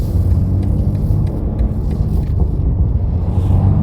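A BMW G80 M3 with an AWE Switchpath exhaust and high-flow catted downpipes creeps along in first gear at about 10 mph, its exhaust a loud, close, steady low rumble without revving.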